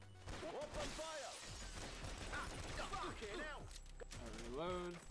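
Rapid video-game gunfire from Not A Hero crackles in dense bursts throughout, mixed with chaotic game effects while someone talks excitedly over it.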